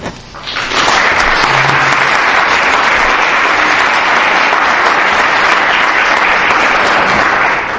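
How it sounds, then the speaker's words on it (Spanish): A Madrid conference audience breaks into welcoming applause for a speaker, swelling quickly from a quiet start into loud, sustained, dense clapping that holds evenly for several seconds without voices. "y con ese aplauso les dejo."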